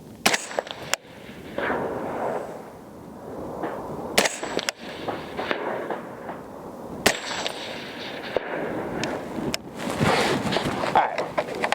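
A PSA M110-A1 .308 rifle fires several sharp, loud shots at an outdoor range, spaced a few seconds apart over steady wind rumble.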